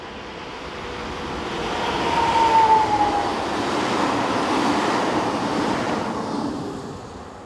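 Electric locomotive 25679 hauls a northbound Sélestat to Strasbourg local train past, a steady broadband rumble swelling as it nears and then easing off, with a faint brief whine midway.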